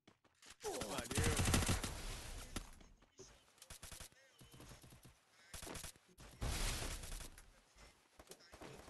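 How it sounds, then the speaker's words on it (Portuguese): Rapid gunfire from the mobile battle-royale game Free Fire crackles in repeated loud bursts and short volleys, mixed with game effects while a player talks over the action. "Esse cara me atirando, mano."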